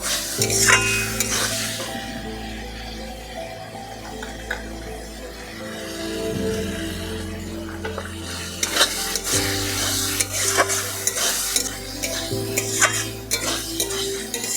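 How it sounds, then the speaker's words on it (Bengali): Ridge gourd and potato being stir-fried in a pan, with a spatula scraping and stirring against the metal in repeated strokes over a soft continuous sizzle, close and fairly loud, with no talking. "ঝিঙ্গা আলুটা খুব সুন্দরভাবে কষিয়ে নিয়েছি"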